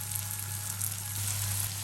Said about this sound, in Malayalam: നമുക്ക് ബാലൻസ് കൂടെ ഇതുപോലെ വറുത്തെടുക്കാം